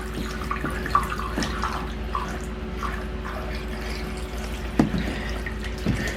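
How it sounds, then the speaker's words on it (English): A gallon of water is poured down a shower drain in a box trailer camper, giving a steady close rush of running liquid with a few faint drips and clunks underneath. "I'm just going to take a gallon of water and we're going to pour it down in here"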